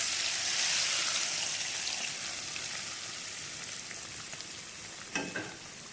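A loud, steady sizzle of batter frying in a hot pan for a yogurt lauki dish, close and continuous with no talk, softening slightly before a brief clatter of stirring near the end.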